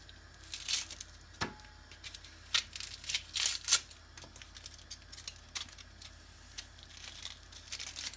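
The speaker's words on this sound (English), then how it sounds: "This is how you peel an onion." An onion being peeled by hand, heard up close and quiet, with irregular dry crinkling, tearing and papery rustles of the skin.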